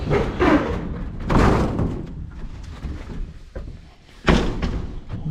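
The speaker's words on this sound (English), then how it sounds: "Let's close the door behind us." A rustic mountain cabin door is pulled shut, landing as one solid thud near the end after a stretch of soft shuffling and handling noise close by.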